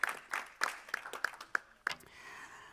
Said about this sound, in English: An applause for all my panelists